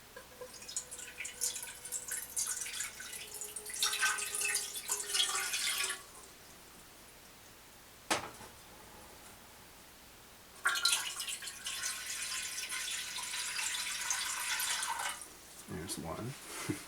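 Water pours steadily from a tap into a cooking pot in two long bursts separated by a short pause, with a brief clunk between them.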